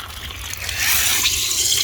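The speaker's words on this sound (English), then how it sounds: "I am watering the plants" Water pours from a hose or can onto garden soil at the base of plants during a heat wave, a steady splashing trickle that swells louder partway through.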